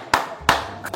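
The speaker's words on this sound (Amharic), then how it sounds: "አረ ጭብጨባ" A few separate hand claps on a sitcom set, sharp and close, coming in quick irregular bursts rather than as a full crowd.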